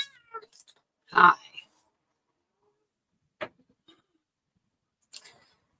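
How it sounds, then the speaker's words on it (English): A cat meows loudly once at close range, followed by a few fainter, shorter meows and small calls spread across a quiet room with long silent gaps. "This one's my noisy cat."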